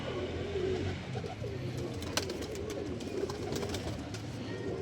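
Prized pigeons coo softly in a loft, low throaty calls repeating at moderate distance over a busy background of rustling and wing flutters, with no talk.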